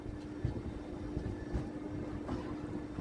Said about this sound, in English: At 7:30 am, we are arriving Londa Junction railway station.